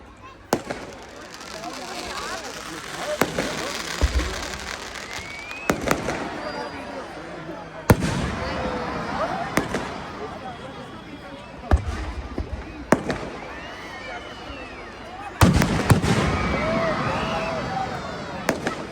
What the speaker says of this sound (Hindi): कृपया आप अपनी आतिशबाजी शुरू करें।